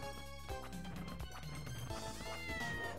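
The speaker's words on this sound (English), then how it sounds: "It's meowing." A cat meows in the side-scrolling game Castlevania: Order of Ecclesia, a short in-game cry set against steady background music with no talking.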